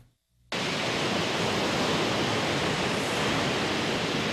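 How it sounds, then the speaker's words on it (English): Massive ocean waves at a beach give a loud, steady roar of crashing surf that cuts in suddenly after a brief silence and continues unbroken, no voices. "KINA's video journalist Sean Callis was at the beach today and brings us those massive waves"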